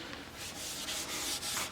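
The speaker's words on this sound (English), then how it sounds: "Sometimes it's less messy just to rub it on like this and then buff it in after the fact." A rag rubs sanding sealer onto a spinning birdseye maple bowl on a wood lathe, giving a steady, close, hissing friction sound that swells in soft repeated strokes.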